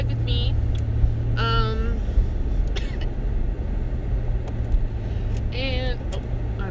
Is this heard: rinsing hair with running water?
no